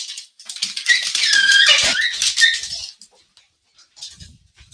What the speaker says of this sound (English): y'all are about to hear some yelping and all of that